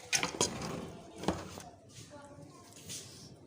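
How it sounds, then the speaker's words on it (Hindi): Beef yakhni pulao rice is dished out of a cooking pot into a serving dish, with a few clanks of a spoon against metal and soft scooping sounds, mostly at the start, alongside a voice. "मैं आपको इसमें डिश में निकाल के दिखाती हूँ।"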